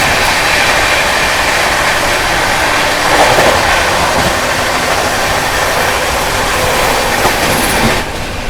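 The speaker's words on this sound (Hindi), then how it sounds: "यहाँ पर अपनी CR राजधानी ने श्रीराम सुपरफास्ट एक्सप्रेस को भी ओवरटेक कर लिया है" CR Rajdhani Express, LHB coaches, overtaking the Shri Shriram Superfast Express at speed: a loud, continuous roar of rolling wheels and rushing air with faint rhythmic clatter, heard close from on board, no voices.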